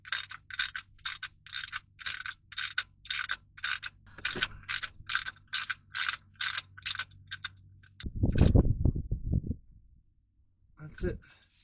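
A hand ratchet tightens the oil drain plug, fitted with a new crush washer, on a BMW 325xi E46 with the M54 engine. It gives a close, even series of sharp clicks, then a short burst of heavier metallic handling and a few final clicks.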